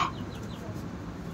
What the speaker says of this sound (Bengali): দেখেন আমাদের ফার্মি মুরগিগুলো কত স্বাচ্ছন্দ্য বোধ করে